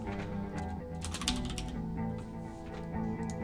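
Typing on a computer keyboard while filtering a recipient list by geographic area: a close, steady patter of key clicks running alone for a few seconds, with no talk.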